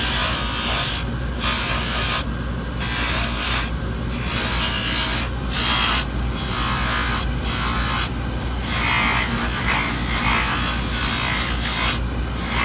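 Rotary polishing wheel high-shining the periphery of a denture, a continuous whirring buzz with rubbing friction that swells and eases in repeated passes, close and steady, no voices.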